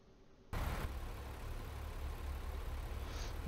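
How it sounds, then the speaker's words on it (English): Truck engine in American Truck Simulator starts up abruptly after a quiet moment, then settles into a steady low diesel idle rumble, alone without talk. "Sounds like the engine's already on."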